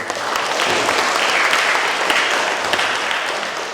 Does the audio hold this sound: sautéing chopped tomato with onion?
no